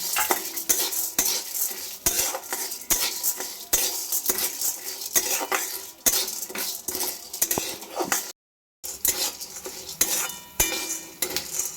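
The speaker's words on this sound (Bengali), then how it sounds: "এর সাথেই আমি দিয়ে দিচ্ছি চিনে বাদাম দিয়ে দিলাম কয়েকটা বাদাম আমি একসঙ্গে ভেজে নিচ্ছি" Chana dal and peanuts dry-frying together in a pan, stirred with a metal spoon that clinks and scrapes against the pan in rapid, irregular strokes, close and fairly loud, with one brief gap of silence.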